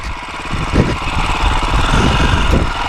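KTM 450XC-F dirt bike engine running close by on a trail, a steady loud low rumble with rough pulsing revs and small throttle swells throughout.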